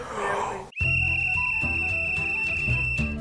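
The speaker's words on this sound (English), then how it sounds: "He pulls a whistle out from his coat." A single long, shrill whistle blast starts abruptly after a brief moment of background noise and holds a steady pitch for over two seconds, loud and close, with low background rumble beneath it.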